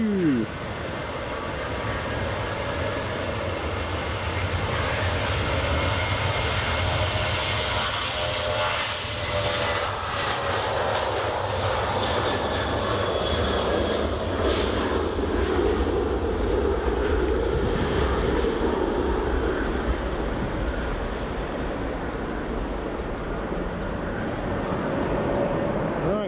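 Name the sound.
Jet2 airliner landing on runway 24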